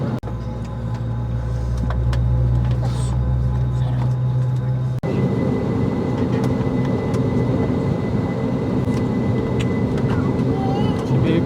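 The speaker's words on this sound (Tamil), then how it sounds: "அட்லாஸ்ட் பார்த்தீங்கன்னா ஃப்ளைட்டில் உட்காந்தாச்சு" Steady low engine drone and broadband rumble fill an IndiGo airplane cabin in flight, continuous and loud throughout, with faint muffled voices in the background and a brief dip in level midway.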